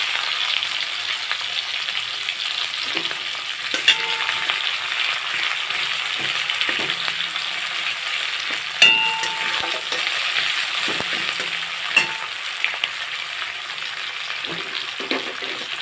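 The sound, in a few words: chopped garlic frying in hot oil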